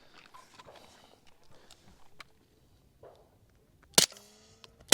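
Handgun fired through a suppressor at an outdoor range, one sharp, loud crack near the end followed by a brief ringing tail, after several seconds of quiet shuffling and light movement.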